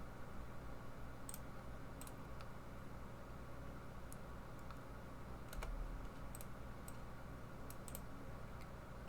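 Sparse, crisp key clicks from a Logitech K120 computer keyboard being typed on carefully, scattered irregularly over a steady low background hum, with no talk.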